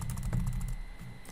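Quick, light keystrokes on a computer keyboard while entering a formula in a spreadsheet tool, a close, busy patter of clicks over low room hum.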